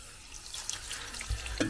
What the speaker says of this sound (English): So this is how we fill up our water flask now.